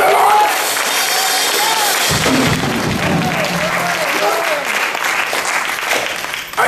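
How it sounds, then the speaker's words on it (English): A congregation at an evangelistic crusade in Geraldton claps hands together, loud and sustained with some cheering, a preacher's voice faintly audible over the continuous clapping. "Somebody clap your hands to the Lord."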